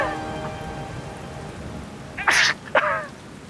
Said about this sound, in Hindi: नैतिक, कितनी तेज बारिश शुरू हो गई ना।